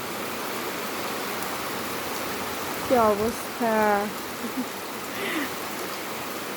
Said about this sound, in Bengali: খুবই বৃষ্টি হচ্ছে, সারাটা দিন বৃষ্টি হচ্ছে।